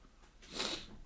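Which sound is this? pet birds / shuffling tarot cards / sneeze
sneeze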